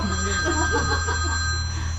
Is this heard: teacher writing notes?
no